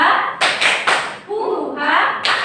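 Students in a Grade VII Indonesian-language class perform a rhythmic hand-clapping chant, with a few sharp clap bursts set against chanted voices at close range.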